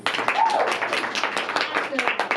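A live improv theatre audience claps and cheers in a continuous burst of applause, fairly close, with scattered voices mixed in.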